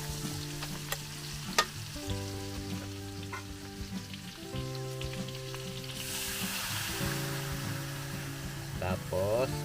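Pork sizzles and fries in a pan after soy sauce is poured in for braised pork leg with shiitake mushrooms, a steady crackling hiss that grows louder toward the end, with a person talking over it.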